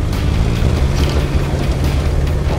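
A Terrain Tamer 4x4 with its electric diff locker engaged revs hard off-road, giving a steady, loud engine drone and rumble with no talking.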